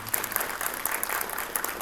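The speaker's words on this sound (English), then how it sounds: "Big round of applause to Mark Fidel." Audience applause for a speaker after a talk on cyber security and cyber insurance, a short, fairly close burst of many hands clapping with crisp individual claps standing out.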